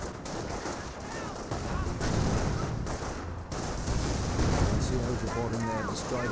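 Battlefield gunfire from a Company of Heroes match, with rifle squads and grenadiers trading shots; steady, dense crackle of small-arms fire with occasional heavier bursts, continuous throughout, with a voice talking over it.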